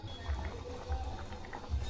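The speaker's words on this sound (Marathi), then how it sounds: "याला एक उकळी येऊन द्यायची" Spinach curry (palak rassa bhaji) coming to a boil in a pan: soft, close bubbling with a few low rhythmic plops recurring through a short stretch, gentle and steady.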